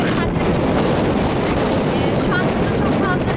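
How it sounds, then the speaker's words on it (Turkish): Strong wind buffets a microphone outdoors on a holiday, producing a constant loud, blustery rumble and roar that nearly buries a faint voice heard underneath. "şu an burada çok fazla rüzgar var."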